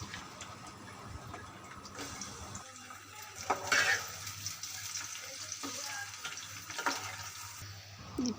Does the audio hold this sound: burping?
no